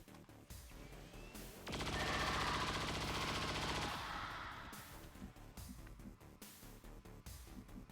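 Gunfire in the strategy game XCOM 2, Long War of the Chosen mod, plays as a dense rapid burst of shots lasting about two seconds, set among quieter game sounds and clicks.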